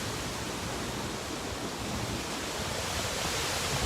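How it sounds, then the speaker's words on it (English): Steady outdoor wind buffets the microphone, giving a continuous, fairly loud broadband rush with no other sounds over it. "can y'all hear me over the wind?"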